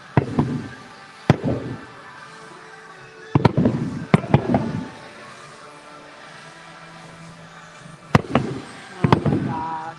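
Fireworks show at Magic Kingdom, Disney World: scattered loud bangs and crackling bursts come in clusters over a steady crowd murmur, with people talking in the background.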